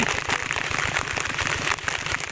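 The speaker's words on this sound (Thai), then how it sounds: "ตอนนี้ฝนก็ตกพี่น้องเลย" Steady rain pours over a rural Lao rice paddy, a dense, close hiss of drops hitting water and ground that continues unbroken with no voices.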